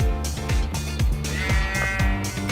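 Bleating from sheep in a Minecraft-style survival game, two sheep near the player, heard over continuous game music with repeating low tones.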